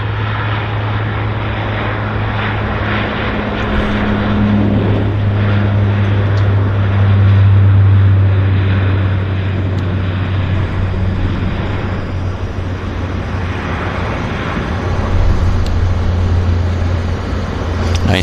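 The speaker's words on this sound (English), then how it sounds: "Q400 on the roll. Air Canada Jazz." Air Canada Jazz Q400 turboprop taking off, a loud sustained propeller drone with a strong low tonal hum that swells in the middle, steady and close throughout.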